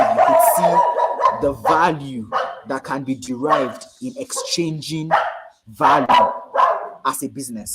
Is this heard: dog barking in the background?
yes